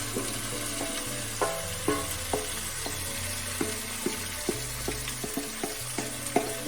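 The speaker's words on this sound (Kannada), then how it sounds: "ಈರುಳ್ಳಿ ಒಂದು ಗೋಲ್ಡನ್ ಬ್ರೌನ್ ಆದಮೇಲೆ ಚಿಕನ್ ಹಾಕೋತೀನಿ." Marinated chicken fries with golden-brown onions for donne biryani, sizzling steadily while a spoon stirs and knocks against the pot in sharp, irregular clanks, close by with no talking.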